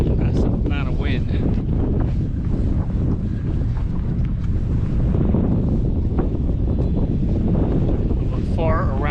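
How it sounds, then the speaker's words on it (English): Strong wind buffeting a boat on the Bush River, a loud continuous roar of wind across the microphone with water noise beneath, and a person talking over it. "Still have a massive amount of wind."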